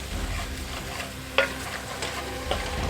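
Beef minestrone ingredients being stirred and browned in a frying pot: a low steady sizzle with a few distinct scraping knocks of the spoon against the pot.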